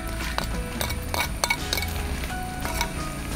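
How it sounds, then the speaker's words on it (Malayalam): Coconut pieces frying in ghee in a bronze urli for a hibiscus flower payasam, a steady close sizzle with repeated metallic scrapes and clinks of a spoon stirring against the vessel. "ഇതിലേക്ക് തേങ്ങാക്കൊത്ത് നമുക്ക് വറുത്തെടുക്കണം."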